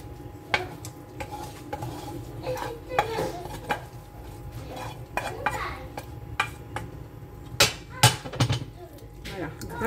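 A spoon stirs a thickening sauce for a meatless vegetable gratin in a pan, giving irregular close scrapes and light clinks over a low steady background hum.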